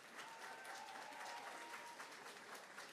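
A studio or event audience applauds steadily for a few seconds at the Dead by Daylight 10th Anniversary livestream. The clapping is continuous and fairly distant, with no voices standing out.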